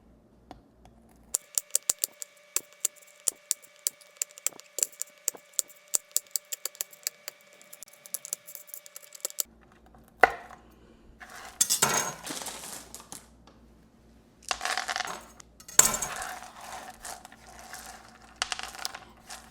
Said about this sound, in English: Let me chop these and I'll bring you back.